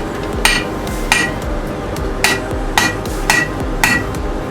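Hot steel being hammered flat on an anvil while forging a handmade fishing spoon: seven sharp, ringing hammer strikes at a steady, slightly uneven pace, close and loud over a low background rumble.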